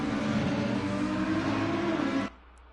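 Race cars on a formation lap at Suzuka in Assetto Corsa Competizione drone with a loud, sustained engine roar that cuts off abruptly, leaving a faint low hum.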